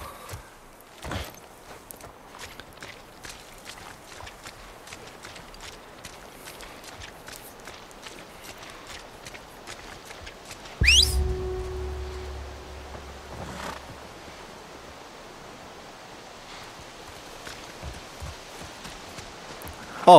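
Horse hooves clip-clop in a steady walking rhythm through the video game The Last of Us Part 1, soft and close, broken midway by a low thud and a brief rumble, with no speech.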